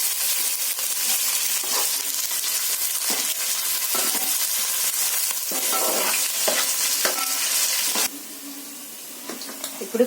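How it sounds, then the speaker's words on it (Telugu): Biryani ingredients frying in ghee and oil with a continuous loud sizzle and scraping stir strokes, dropping to a quieter hiss near the end with a few faint clinks. "ఇప్పుడు ఈ ఐటమ్స్ అన్ని ఆయిల్లో ఫ్రై చేద్దామండి"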